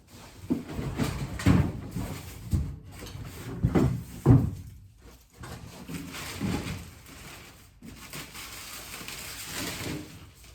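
Metal doors are pulled out inside an industrial factory under renovation, producing a series of clunks, scrapes and rattling bangs at close range with brief quieter pauses between.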